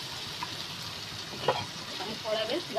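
Tomatoes with salt frying in a pan, a steady close sizzle with a few brief stirring scrapes near the end.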